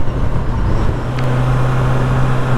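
A Honda CBR 650 R motorcycle with E-clutch pulls away in first gear, its engine droning close and steady with a continuous low hum under road noise.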